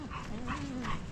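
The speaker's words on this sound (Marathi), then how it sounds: "इकडे वेगवेगळे असे कुत्रे जमा झालेत" Several dogs gathered on a coastal trail at dawn bark and yip in repeated bursts, fairly near and loud, with a steady outdoor background beneath them.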